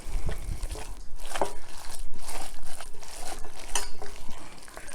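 Cabbage roll filling being mixed by hand in a bowl, giving a continuous moist squelching and scraping with soft clinks against the bowl, fairly close and steady, with no talking.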